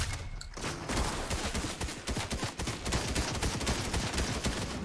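Rapid bursts of gunfire aimed at a house in Fortnite crackle almost nonstop, loud and dense, with the shots blurring into a continuous rattling barrage.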